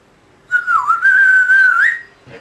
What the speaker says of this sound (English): That whistling is nothing like the canary song.